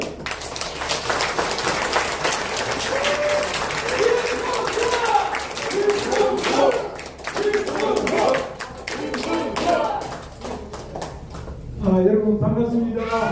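Audience applause at a Korean party forum welcoming candidate Kim Moon-soo, dense steady clapping from a crowd mixed with voices and chatter, continuing through most of the clip, fading briefly before a louder burst near the end.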